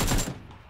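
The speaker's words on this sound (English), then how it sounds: "We're getting shot at by another group, dude." A short burst of gunfire from another player group in the Xbox game PUBG on Miramar, a loud quick volley that cuts off and trails into a faint echo.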